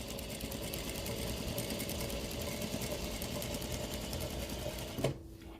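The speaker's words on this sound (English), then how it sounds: "now we're ready to start stitching the straightaway again" A sewing machine stitches the straight run of premade quilt binding after a mitered corner, a steady close mechanical whir with rapid needle ticking that runs continuously, then stops abruptly near the end.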